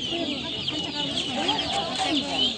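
Chickens and chicks at a poultry market in Sokuluk keep up a dense, steady clucking and peeping chatter, close and continuous with no talk over it.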